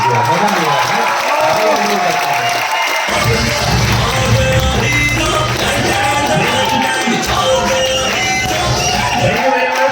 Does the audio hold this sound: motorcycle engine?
no